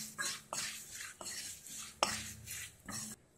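Cooked rice tipped into a pan of fried black pepper and stirred, with repeated metal spoon scrapes and clinks against the cookware in a steady rhythm, close and fairly quiet.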